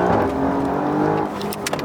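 Alfa Romeo Giulia QV pulling hard under full throttle with its tyres slipping for traction, a steady close engine roar heard from inside the car, with a brief sharper rasp near the end.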